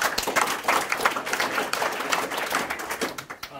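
Audience applause at a school district board meeting, a dense patter of many hands clapping steadily in a room, fairly loud and unbroken throughout.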